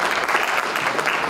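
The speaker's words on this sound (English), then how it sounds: "Give yourselves a round of applause as well for coming out here for a matinee big band show on Sunday afternoon." An audience at a Sunday afternoon matinee big band concert applauds, producing a dense, steady wash of clapping that fills the short moment at close range.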